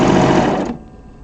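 A serger overlock machine stitches quilt binding at a corner in a loud, fast, steady whir that cuts off abruptly partway through, leaving a faint hum, with no talking.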